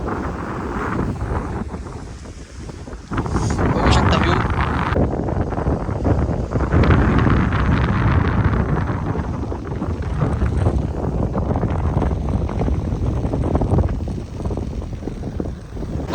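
Strong wind buffets the microphone in heavy, continuous gusts, roaring loudly throughout with a low rumble, near a dam reservoir with large waves.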